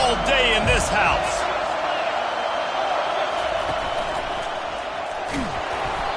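A college football stadium crowd roaring, a dense, loud, sustained wash of cheering that fills the whole stretch with a few sharper shouts near the start.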